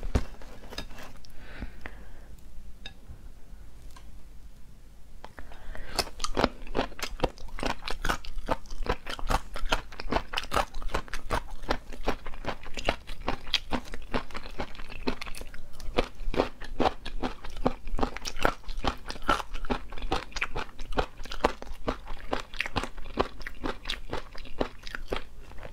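Crunchy cumin-flavoured snack being bitten and chewed close to the mic, a dense run of sharp crackling crunches that keeps going steadily with no talking.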